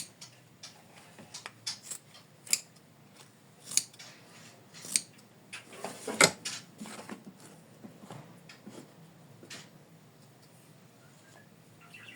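Scissors snip quilt fabric for an in-the-hoop embroidered heart, a series of close, crisp cuts spaced irregularly with quiet gaps between them.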